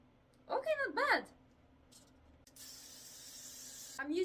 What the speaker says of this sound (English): I'm using Got2b spray. It's like super glue but for hair.